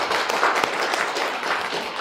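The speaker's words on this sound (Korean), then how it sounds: "박수 드리도록 하겠습니다" A church congregation at an Easter Sunday service claps together in thanks, a steady, moderately loud round of applause filling the room with no voices over it.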